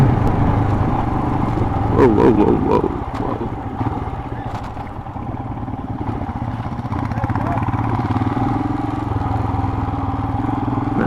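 Royal Enfield Himalayan motorcycle riding off-road in a reserve forest, its engine a steady close rumble with wind buffeting and a brief rise early on, and a voice speaking intermittently over it.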